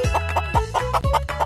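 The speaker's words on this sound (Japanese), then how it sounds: "それじゃあお次サイコくんバーサスニワトリ" A chicken clucks in the puzzle video game Psycho Boy, giving about six short, close, fairly loud clucks in a quick, uneven rhythm with no talking.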